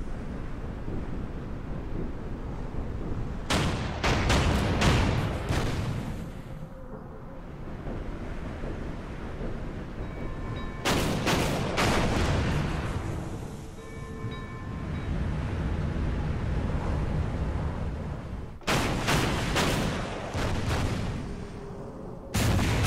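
Heavy battleship gun salvos in the WWII Pacific strategy game Order of Battle, set at Guadalcanal: three loud booming bursts with rumbling tails, separated by quieter stretches of low noise.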